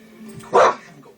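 A dog gives a single short bark at mid-distance, a sharp burst standing out over a low room background with faint voices.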